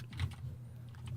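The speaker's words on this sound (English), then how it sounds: "I'm not typing correctly right now" Quick soft keystrokes patter on a computer keyboard in a brief close burst, light clicks running together over a low steady hum.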